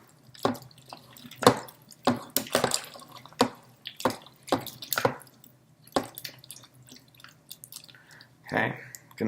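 Veggies and potatoes stirred into a pressure cooker beef stew, wet squelching thumps and sloshes in an uneven rhythm, close and moderately loud, with a faint low hum behind.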